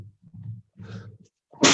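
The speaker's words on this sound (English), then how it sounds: "excuse me, I'm going to sneeze" A sudden, loud allergy sneeze bursts out at the end, following a few low, muffled vocal sounds and breaths.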